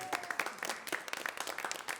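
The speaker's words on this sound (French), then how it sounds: "Maintenant, nous allons applaudir, s'il vous plaît, les finalistes" Audience applause at the Prix Kalou 2026 awards greets the agency finalists: brisk, scattered clapping from a modest indoor crowd, fairly quiet and continuous with no voices over it.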